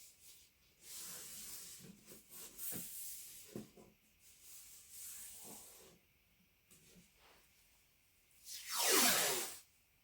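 Spray paint from an aerosol can hisses onto seashells in a long, faint spray, then one louder burst near the end, with soft rubbing and handling noises between.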